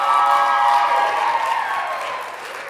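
Audience at an Africa Night student cultural show claps and cheers in a loud, dense wash of applause that gradually thins and fades over a few seconds.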